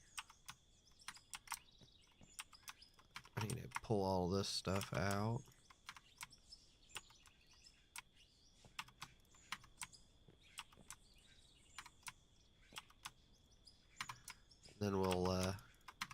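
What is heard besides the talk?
typing on a clicky computer keyboard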